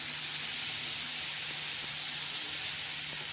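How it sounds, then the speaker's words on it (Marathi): Wild amaranth greens (tandulja) tossed onto onions on a hot griddle with green chillies, garlic and salt, giving a steady close sizzling hiss with no talk. "आता हे छानसं हलवून घेतले आपण याच्यावर आता भाजी सोडली."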